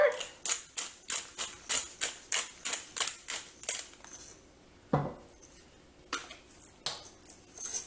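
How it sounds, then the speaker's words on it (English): A pepper grinder cranks steady rhythmic clicks as pepper is cracked over ingredients in a crock pot for cheesy chicken spaghetti, about a dozen even ratcheting turns, close and crisp, followed by a few scattered clatters. "We're also going to crack in a little bit of pepper."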